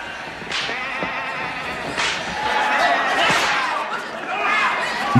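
Sheep bleat several times amid shuffling and clattering, with voices talking nearby.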